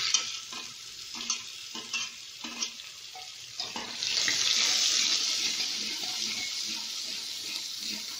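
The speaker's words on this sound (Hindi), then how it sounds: "तेल हमारा गर्म हो चुका, हम इसमें धनिया डालेंगे, जीरा, अब इसमें हम प्याज ऐड कर देंगे" Chopped onions drop into hot oil already seasoned with coriander and cumin, erupting into a loud, steady sizzle that follows several short clinks and stirring sounds and then settles into continuous frying.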